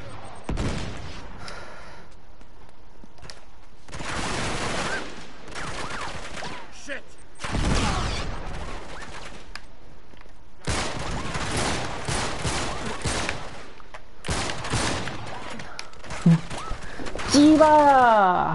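Shotgun blasts and gunfire in the video game Uncharted 3, firing in bursts through a busy combat scene with a voice talking over the shots.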